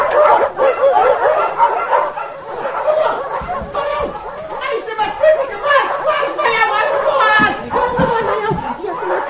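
Dogs barking at a village gate in a Romanian radio play adaptation of Ion Creangă's story, heard amid constant talking voices and some laughter in a busy, dense scene.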